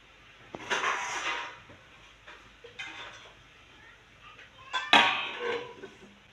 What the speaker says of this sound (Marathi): आपण याला झाकून ठेवूया आणि पाच मिनटं छान शिजू देऊया